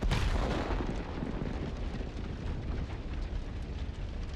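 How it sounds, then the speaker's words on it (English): A Ukrainian FPV drone hit detonating a Russian Tulpan mortar, a loud deep explosion at the start followed by a long rumbling roar that slowly fades. "Another hit, and from high above, we see a huge mushroom from the explosion."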